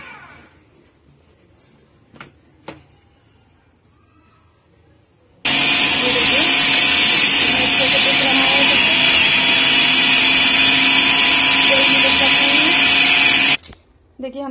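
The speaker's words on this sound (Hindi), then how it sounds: "अब हम इसको ग्राइंड करेंगे" An electric mixer grinder whirring as it grinds a chicken kebab mixture, a loud steady high-pitched motor drone lasting about eight seconds before cutting off, with brief clicks and quiet handling beforehand.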